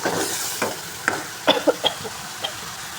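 A tamarind mixture reduces in oil in a pan, a soft sizzle under several distinct spatula scrapes and clinks spaced irregularly, close and moderately loud.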